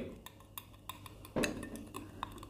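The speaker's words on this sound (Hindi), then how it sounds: "मैं थोड़ा मिक्स कर लेता हूँ इसको" A utensil stirs magnesium oxide into water in a glass, giving a string of light metallic clinks and taps with one fuller scrape-and-knock midway, close and fairly quiet.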